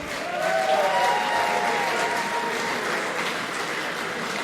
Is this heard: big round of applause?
yes